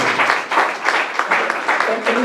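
An audience in Buenos Aires applauding for a singer at the launch of her Spanish-language tango, with clapping bursts mixed under a loud voice speaking over the crowd.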